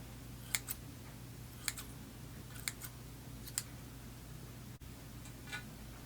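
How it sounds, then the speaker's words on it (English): Small scissors snip weeping willow bonsai roots in a quiet indoor setting, making several faint crisp clicks spaced over a few seconds against a steady low hum. "Get my scissors here."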